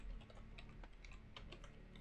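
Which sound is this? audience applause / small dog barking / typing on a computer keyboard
typing on a computer keyboard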